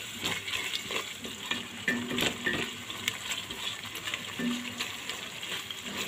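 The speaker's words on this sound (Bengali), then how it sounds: "এই মাছের মশলাটাকে আমি ভালো করে কষিয়ে নিচ্ছি" Fish masala is stir-fried in a pan for a Bengali fish bhuna, a quiet, close sizzle with scraping stirs and light clinks of a utensil against the pan at irregular moments.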